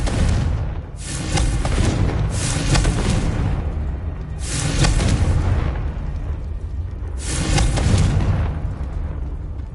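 Repeated explosive blasts from the Confringo blasting curse in Hogwarts Legacy on PS5, four loud booming bursts spaced a couple of seconds apart over a continuous rumbling backdrop.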